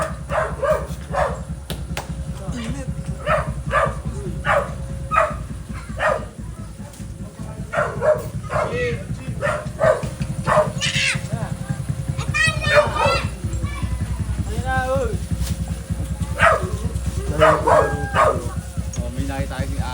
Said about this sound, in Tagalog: May nakita tayo yung aso eh.